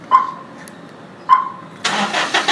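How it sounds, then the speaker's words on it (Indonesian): A Toyota Innova, a 2005 model upgraded to 2015 styling, gets remote-started from its key fob: two short chirps, then the engine cranks and catches into a steady idle, close and clear, with no talking. "otomatis mobil langsung memanasi sendiri bosku"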